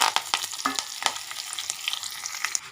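Cumin, curry leaves and dried red chillies frying in oil for a tomato rasam tempering, giving a close, steady sizzle broken by sharp crackling pops throughout, with no talking.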